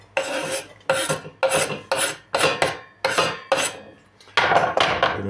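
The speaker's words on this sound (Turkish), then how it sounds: "Şimdi soğanımızı doğrayalım." Onion is cut on a board in a home kitchen with a series of rasping, scraping strokes, about eight loud close passes in an uneven rhythm, each a dense burst ending abruptly, with no talking.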